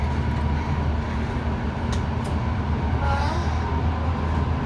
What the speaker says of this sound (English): Another 2-car train.